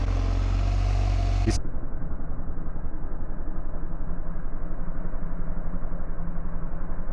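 A motorcycle engine runs with a steady, throbbing rumble after a sudden cut, continuing evenly until the end.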